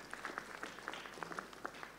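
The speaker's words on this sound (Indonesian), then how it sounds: "Berikan tepuk tangan yang meriah untuk Dimas dan Angel." Applause from an audience for a couple, Dimas and Angel, at a wedding blessing ceremony; faint, scattered clapping with distinct claps standing out over a low hum, lasting about two seconds.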